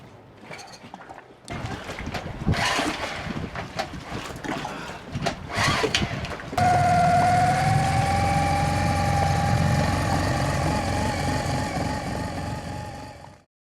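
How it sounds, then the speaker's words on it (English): A sailboat's inboard engine runs again after water got into its oil, starting up partway through and then holding a steady, loud, continuous drone with a tonal hum to the end, following a stretch of clattering noise. "After that, 32 hours after the incident, the engine finally started again."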